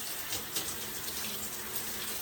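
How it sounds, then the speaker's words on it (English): Running water pours steadily from a tap while hair is rinsed under the stream, a continuous close broadband hiss with slight splashy fluctuations and no talking. "rinse your hair out under running water"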